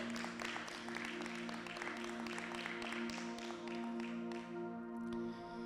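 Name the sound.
church congregation applause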